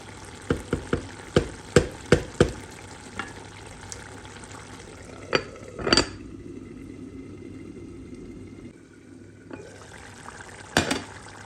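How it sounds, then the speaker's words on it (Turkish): A pot of zucchini stew simmers with soft bubbling while a spoon stirs it, giving several sharp clinks against the pot rim, a brief scrape and one more clink near the end. "kaynayıp pişmeye başlayan yemeğimi şöyle hafifçe karıştırıyorum"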